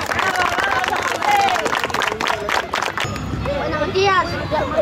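Applause and crowd noise for children at a kids' football final, San José versus Gijexi, loud and continuous with voices talking over it.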